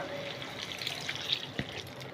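Water poured into a cooking pot of oyster mushroom gravy, a soft continuous splash and trickle heard close and fairly quiet.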